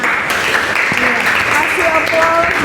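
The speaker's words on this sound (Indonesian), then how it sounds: "Kasih aplaus buat kelompok 2, luar biasa." Applause from a classroom audience for a student group, a dense steady patter of clapping that lasts the whole stretch at a fairly loud level, with a few tonal voices or sounds mixed in underneath.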